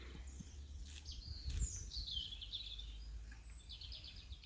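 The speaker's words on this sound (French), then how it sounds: "je sais pas si vous entendez tous ces petits oiseaux" Several small birds chirp and trill outdoors in a calm spot in Brittany, light, quick high calls scattered through the clip over a steady low rumble of wind or background noise, no talking.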